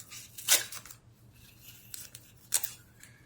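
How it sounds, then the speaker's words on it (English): Masking tape peeled off joined paper or card shapes, giving two sharp, close ripping bursts about two seconds apart in an otherwise quiet room. "If I pull the masking tape off,"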